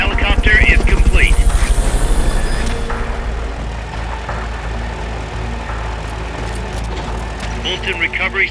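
Helicopter from the Metal Gear Solid Peace Walker game, a steady loud rotor drone carrying on throughout, with a voice speaking over it at the start and end.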